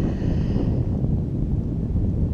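Wind roars steadily across open desert sand dunes at Glamis, buffeting the microphone with a loud, constant low rumble and no voices.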